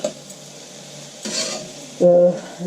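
Vegetables stirred through oil in a pan for vegetable spring rolls (nems), a steady soft scraping and stirring that swells briefly with a brief clatter near the end.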